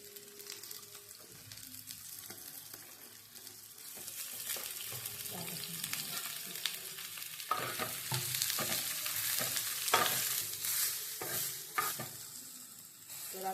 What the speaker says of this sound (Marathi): मी आलं लसूण टाकणार आहे आता ते त्याच्यात कांदा टाकणार आहे हे सर्व एकत्र भाजून घेणार आहे